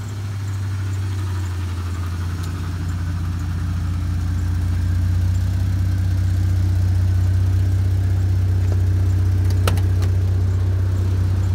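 A repaired pickup truck engine idles steadily up close, a loud continuous low hum and whir that holds even throughout with no voices.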